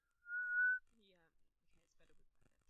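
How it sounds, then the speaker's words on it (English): A person whistles a single sustained tone with dry lips, close and fairly clear, followed by quiet talk. "Have you ever whistled with dry lips? I just whistled with dry lips."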